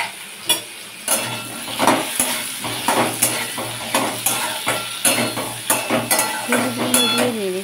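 Banana stem pieces being stirred with turmeric in a pan: loud, close scraping of a spatula against the pan in a regular rhythm over a soft, continuous sizzle.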